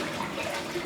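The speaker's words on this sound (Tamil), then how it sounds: "எல்லாம் தாளித்து தண்ணியெல்லாம் ஊற்றியாச்சு." Water poured into a pot of tempered spices for a large batch of kuska, a steady close splashing rush filling the short moment with no talk.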